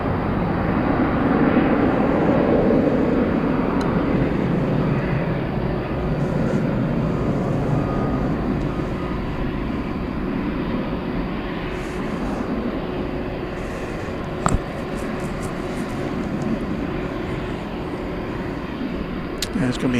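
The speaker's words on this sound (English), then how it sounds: "American Flight 2361 is coming in from San Diego" An American Airlines Airbus A321 arriving at DFW Airport at night from San Diego, a broad, steady engine roar and rumble that holds for the whole stretch, with one brief sharp click partway through.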